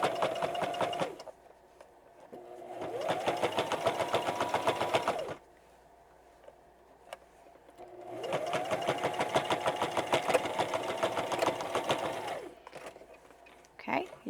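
A sewing machine stitches a quarter-inch seam on a fabric pencil pouch in two long, steady runs of rapid mechanical whirring, with a quiet pause between them, close and fairly loud.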